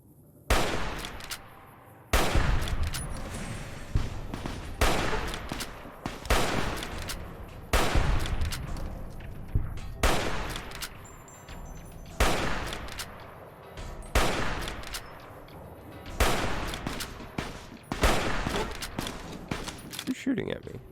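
Gunfire from Fallout: New Vegas in repeated loud bursts every couple of seconds, each a sharp broadband crack with a ringing tail, against a steady low game ambience.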